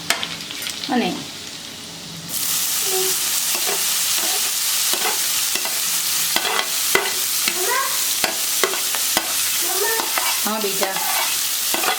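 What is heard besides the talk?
spinach being sautéed and stirred with turmeric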